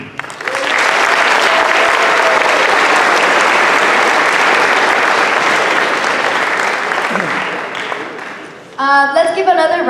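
Audience at a Chicano Moratorium assembly breaks into loud, sustained applause that swells quickly and holds for several seconds, with faint voices beneath, then fades as a speaker begins talking at the end.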